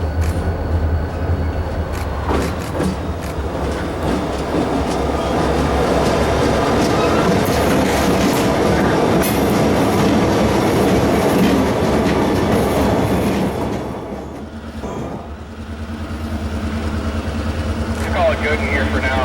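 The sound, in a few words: freight train passing on rails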